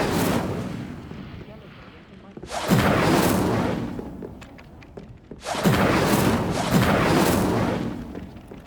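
Incendio fire spell cast in Hogwarts Legacy: two loud whooshing fiery bursts, each roaring for about two seconds, with quieter rumbling between them and a voice present.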